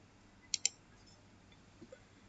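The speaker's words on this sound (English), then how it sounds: "Right click, then we set end." Right click of a computer mouse: two quick, sharp clicks close together, crisp and near, followed later by two fainter soft taps in an otherwise quiet room.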